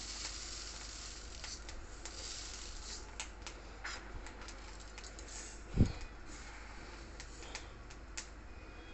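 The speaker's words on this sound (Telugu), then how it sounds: "ఇదే గరిటెతోటి 2 గరిటెలు ఆవాలు వేసి వేయించుకుంటాం అన్నమాట మాగాయ కోసం" Mustard seeds and fenugreek frying in hot oil for mango pickle, a steady close sizzle with faint crackles and one sharp clink partway through, no talking.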